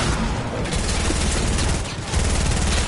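Dense, sustained gunfire in the Fortnite video game rattles on loud and continuous for about three seconds, with rapid overlapping shots and a slight dip near the end.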